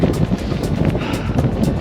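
Strong wind buffets a mountain summit in Snowdonia, a steady, loud rumbling roar of gusts battering the microphone with no pauses and no voices.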